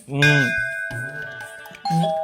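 A home doorbell rings for a delivery at the door, with clear ding-dong chimes that sustain and ring again near the end, close by, under people talking.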